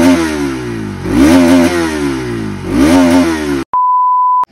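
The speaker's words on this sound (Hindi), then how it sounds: "अब सुनाने वाला हूँ भाई RS 200 का साउंड" A Bajaj Pulsar RS 200 motorcycle engine revs twice in sharp rising bursts over a steady idle, then stops, followed by a long electronic beep.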